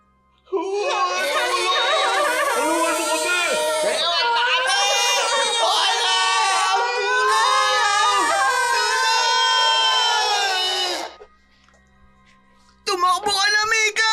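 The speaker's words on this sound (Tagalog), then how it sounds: "Kakaibang tunog mula sa yero at mga iyak ng bata." Children crying and shrieking in a dense, loud, continuous wail of many voices, eerie and sustained, breaking off briefly before resuming.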